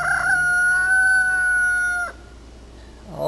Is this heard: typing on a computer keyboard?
no